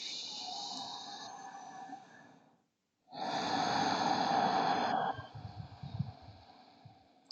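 Deep, slow breathing held in a yoga pose: a long, audible exhale, a short pause of silence, then a fuller inhale and breath sounds, close and unaccompanied.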